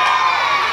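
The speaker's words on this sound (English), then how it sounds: "Bloodthirsty crowd, we like that." A fairground sideshow crowd at a carnival circus, including children, bursts into loud cheering and shouting for a mock guillotine execution, a brief dense roar of voices close by.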